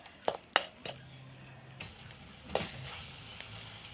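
Tomatoes sizzle softly in a pan over low heat for an Assamese fish curry with mustard, with a few sharp clinks of a utensil against the pan over quiet frying.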